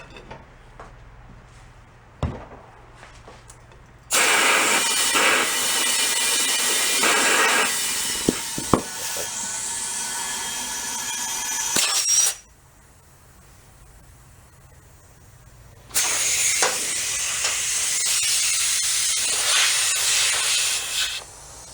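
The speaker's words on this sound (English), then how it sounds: "The compressor's going to kick on us too, unfortunately." Air rushing in hissing blasts while seating a go kart tire bead, two long loud bursts separated by quieter gaps with small knocks and clicks.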